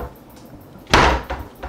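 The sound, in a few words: wooden cupboard doors opening and closing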